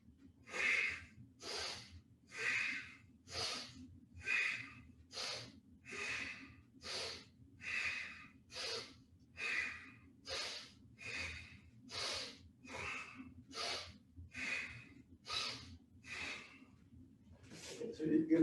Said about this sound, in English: we're going to breathe in, we're going to do 9 breaths